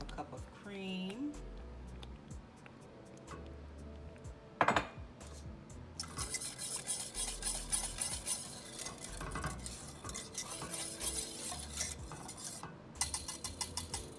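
Spoon stirring half a cup of cream into grits in a pot, a scraping, clinking stir with a sharp knock partway through, then busier continuous scraping and rattling against the pot for most of the stretch.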